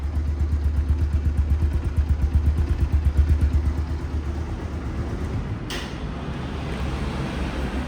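A 2023 Bajaj Avenger ABS cruiser motorcycle idles close by, its low engine throb pulsing in a steady rapid rhythm that stays loud and even, with a brief sharp click partway through and no voices.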